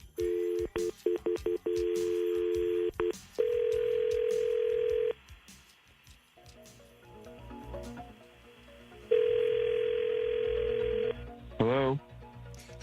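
An outgoing telephone call: a quick run of dialing tones, then long steady ringback tones separated by silence and faint background noise, ending in a short warbling burst.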